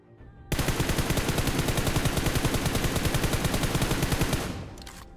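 Sustained automatic gunfire from PUBG Mobile, a loud, rapid, evenly spaced burst of shots that starts abruptly and runs for several seconds before tapering off, with no talk over it.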